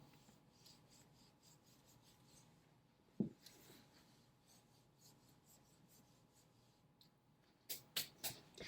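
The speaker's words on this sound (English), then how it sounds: "if I can erase this quickly" Rasping rubbing strokes of an eraser wiping a classroom board, quiet scattered scrubs followed by a burst of three quick louder swipes near the end, with no talking over them.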